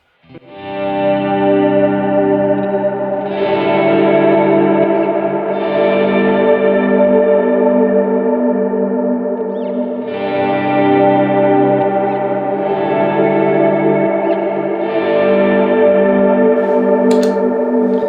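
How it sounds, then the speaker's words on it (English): Guitar chords swell in slowly through a reverb pedal, each long sustained wash blooming and ringing with shimmering, chorus-like tails; two broad swells fill the space, loud and alone. "This is the swell sound on that."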